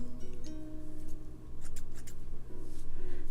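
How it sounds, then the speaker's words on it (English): Scissors snip the ends of long hair in several quick, close cuts, with soft faint snipping and rustling and a steady low hum behind. "I just trim the ends"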